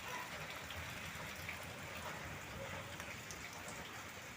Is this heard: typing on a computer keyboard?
no